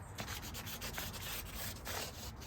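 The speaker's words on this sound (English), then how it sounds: "I'm going to hit the edge here of the fretboard to kind of roll it a little bit, so it's not so sharp" A wooden Telecaster fretboard edge is rubbed to roll and soften it, a steady close scraping and sanding sound with quick repeated strokes and no voices.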